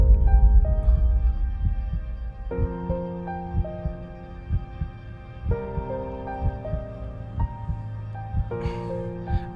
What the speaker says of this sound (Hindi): तुम्हारी धड़कन बहुत तेज है, क्या बात है?